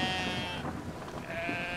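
A sheep bleats in the video game Brothers: A Tale of Two Sons, a couple of wavering, nasal calls heard fairly close over a soft game soundscape, with no one talking.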